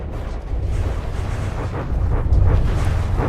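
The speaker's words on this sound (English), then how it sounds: "Oh, he's got a cram cannon." Cannon fire and explosions in a naval combat video game, a dense continuous rumble of low booms and blasts with no clear separation between shots, loud throughout and building slightly toward the end.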